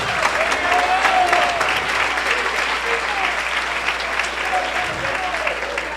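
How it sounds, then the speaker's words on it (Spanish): A church congregation claps loudly for Jesus during a Spanish-language sermon, a dense, sustained burst of applause filling the hall, with voices and cheers mixed into the clapping. "Dale un aplauso fuerte a Jesús."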